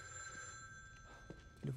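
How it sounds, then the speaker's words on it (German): A telephone rings inside the horror video game The Evil Within 2, a steady electronic bell tone sustained across a short stretch with faint room noise beneath and a louder thump near the end. "Telefon klingelt."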